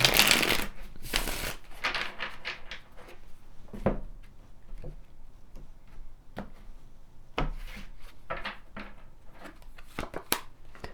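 Tarot cards being shuffled and pulled from the deck, a run of close, dry rubbing and flicking sounds with sharp card snaps scattered across the stretch.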